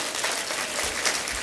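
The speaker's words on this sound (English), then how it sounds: "Yes, you can clap for that as well." An audience at a community celebration evening claps for a short burst of steady, dense applause with no talk over it.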